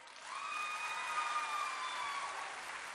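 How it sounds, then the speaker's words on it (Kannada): An audience applauds after a children's dance at a school annual day: a steady wash of clapping from a crowd, with a sustained high tone running through it before it fades. "ಮಸ್ತ್ ಮಸ್ತ್ ಚಪ್ಪಾಳೆ."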